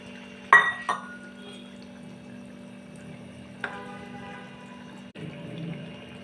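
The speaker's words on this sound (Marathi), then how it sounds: "आता आपण फोडून घेतलेले अंडे त्याच्यामध्ये घालूया" Already-cracked eggs are added into a simmering onion-tomato masala for dum egg masala, giving a sharp clink of a bowl against the pan followed by a soft wet pour and a couple of quieter taps, fairly faint, with no talking.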